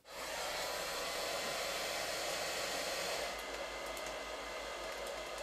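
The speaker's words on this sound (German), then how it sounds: "lasse ich ein Audio-File laufen, wo irgendwie ein Föhn läuft" A hair dryer, played back as a recording, blows in a steady loud whirring rush from start to finish, with a slight change in tone partway through and no talking.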